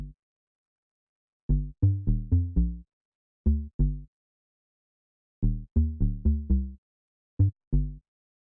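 Minimal house bass line following G, short plucky low notes in sparse syncopated clusters separated by gaps, clean and alone.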